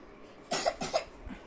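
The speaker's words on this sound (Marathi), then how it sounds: "खोकला येतोय" A child coughs close by, two or three quick coughs in a short burst, followed by a softer one.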